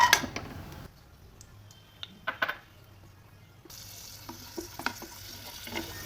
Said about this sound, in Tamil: நெய் சூடானதும் முந்திரி திராட்சை நம்ம வறுத்து எடுத்துக்கலாம்